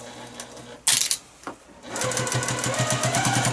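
A sewing machine runs through many stacked fabric layers for a face mask, beginning with a couple of sharp clacks before settling into a steady, close, rhythmic stitching hum.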